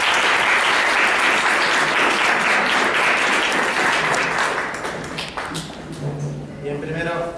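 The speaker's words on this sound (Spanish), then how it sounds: "Un aplauso para él, por favor." An audience at a literary talk on reading and culture applauds a guest speaker, a dense sustained wash of clapping that thins out toward the end as a voice begins to speak.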